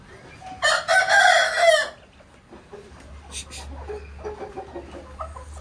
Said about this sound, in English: Very aggressive chicken, huh?